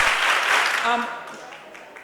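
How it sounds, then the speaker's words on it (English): A group clapping in an energizer exercise, a dense burst of crowd claps that fades out, with brief talk in the middle. "clap once, twice, 3 times"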